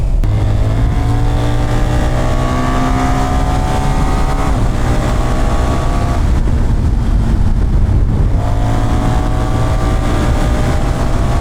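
BMW R 1300 GS adventure-touring motorcycle accelerating hard, a loud continuous engine roar with rising and falling pitch sweeps as it revs through gears, close to the rider.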